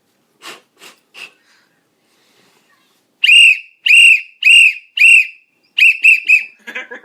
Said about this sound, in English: Let's get the whistle.